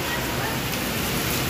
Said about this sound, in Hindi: बारिश आ गई देखो।